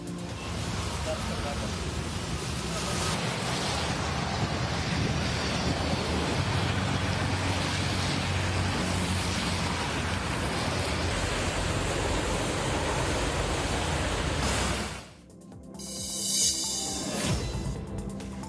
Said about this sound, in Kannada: ಭಾರೀ ಮಳೆಯಾಗ್ತಾ ಇದೆ